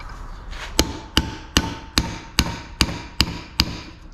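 Sharp metallic hammer strikes drive a bearing race into a trailer wheel hub, eight blows one after another at a steady pace, ringing close and loud with a brief decay after each.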